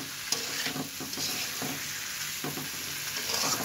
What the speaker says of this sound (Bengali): এখন আমার ভেজে নেওয়ার পালা সুন্দর করে।